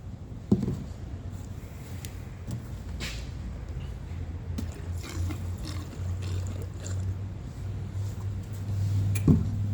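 Fresh fuel pours into a Stihl MS170 chainsaw tank, a steady low gurgling trickle running the whole time with a few small knocks and clunks, fairly close and without talk.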